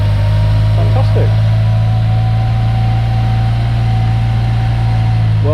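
Yugo Sana GL engine starting up for the first time in 20 years, settling into a loud, steady low idle drone close by that holds unbroken throughout.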